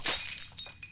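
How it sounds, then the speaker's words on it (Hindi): A drinking glass breaks indoors with a bright crash, then scattered tinkling fragments settle over the next moment; fairly close, no talk. "अरे गिलास फूट गया।"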